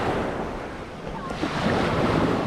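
Sea waves wash onto the shore near a medieval Mediterranean village while wind blows across the microphone, a steady broadband surf roar that swells slightly toward the end with no speech over it.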